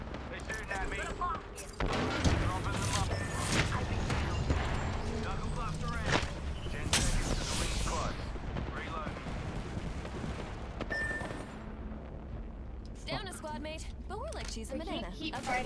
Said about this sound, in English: Getting shot at. They're shooting at me.